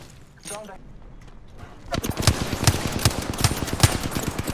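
Gunfire in the video game Apex Legends: after a quieter start, rapid automatic bursts rattle on in a loud, steady stream up close, with excited players talking over the shots.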